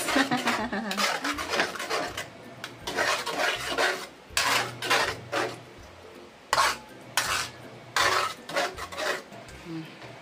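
Macaroni is stirred in a pan, a utensil scraping and clinking against the metal in uneven bursts with short pauses, close up; voices are faintly audible.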